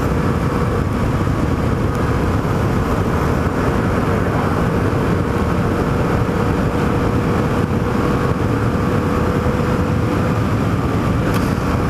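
A Yamaha FZ-07 motorcycle riding in the rain with awkward throttle response: a loud, constant engine roar mixed with wind and road noise, steady and close for the whole stretch.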